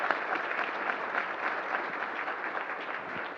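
A live audience claps for a guest speaker at an evening event, the applause steady, dense and close throughout with no break, building slightly near the start and holding at a full roar for the whole stretch.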